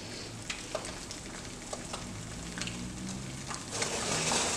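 Sunny-side-up eggs frying in a pan, a soft, continuous crackling sizzle with scattered small pops that grows slightly louder at the end, with no speech.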